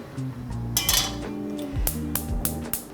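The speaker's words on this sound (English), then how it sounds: "I am going to start off by toasting off some Szechuan peppercorns" Szechuan peppercorns toast in a pan, giving a few bright metallic clinks and rattling knocks against the pan over a low background hum.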